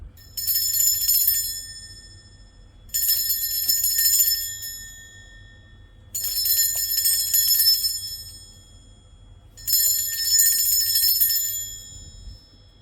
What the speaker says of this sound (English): I am going to ring a bell just to cleanse the space around us